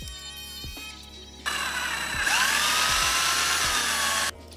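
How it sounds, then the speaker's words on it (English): Power sanding off excess 3D-printed filament to smooth the bottom of a camera mount, a loud continuous high whine that jumps in intensity partway through, with a few dull knocks, then cuts off near the end. "Then I'll sand off the excess filament and make the bottom smooth."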